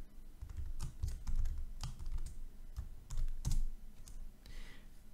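Code being typed on a computer keyboard for a Unity C# script, a steady patter of close, crisp keystrokes with irregular bursts and brief pauses, heard alone without talk.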